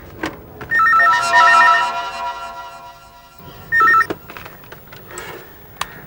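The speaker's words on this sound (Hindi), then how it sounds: "लगता है उसी का फोन है" A telephone bell rings in two bursts, a longer trill followed by a short one after a pause, clear and near with faint room noise between.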